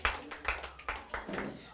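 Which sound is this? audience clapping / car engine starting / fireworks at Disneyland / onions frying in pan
audience clapping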